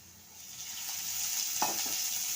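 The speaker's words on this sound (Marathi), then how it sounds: "आणि कांदा परतून घ्यायचा आहे" Onion sautéing in a little oil in a pan, a steady close sizzle with a couple of brief stirring scrapes partway through, no voices.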